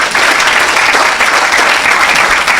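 A church congregation applauding the Lord: dense, loud, steady clapping from a large crowd that continues without a break.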